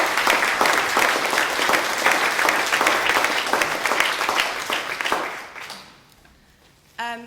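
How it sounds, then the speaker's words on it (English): An audience applauds the speakers at a panel discussion on post-recession politics, with dense, steady clapping that holds for about six seconds before thinning out and fading to near silence. "Please, can I have a round of applause for our speakers to welcome them?"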